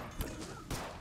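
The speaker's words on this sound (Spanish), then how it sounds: "Mucha velocidad de disparo, pero le cuesta tres disparos matar a cada zombie." Rapid turret gunfire from the zombie strategy game They Are Billions, two sharp shot bursts over a constant noisy game soundscape, moderately loud.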